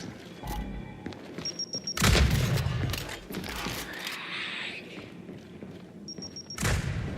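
A frag grenade bursts in the Gears 5 video game, with heavy booming impacts and rattling gunfire in loud bursts separated by quieter stretches.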